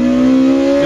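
A car engine revs hard with a loud, rising tonal whine, held steady then climbing sharply at the end.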